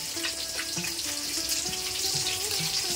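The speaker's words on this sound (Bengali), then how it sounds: "বাসন টাসন একেবারে ধুয়ে নেব।" Tap water runs steadily into a kitchen sink as pots and dishes are rinsed, a close, continuous hiss and splash with faint clinks of utensils and no talk.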